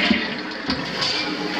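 A toilet flushing in a vacant house, a steady rushing swirl of water that holds at even loudness for the whole stretch, close by with no one talking.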